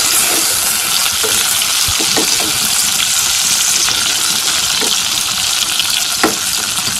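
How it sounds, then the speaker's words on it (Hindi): Whole okra (bhindi) stuffed with masala frying in a pan, a loud, steady hiss of sizzling oil held close with a few faint clinks and pops. Nobody speaks. "ये फ्राई हो रही है।"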